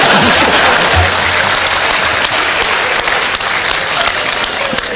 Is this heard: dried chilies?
no